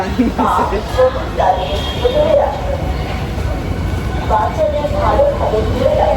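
A metro train rumbles at an elevated station in Uttara, a steady broadband roar under a crowd of voices chattering throughout.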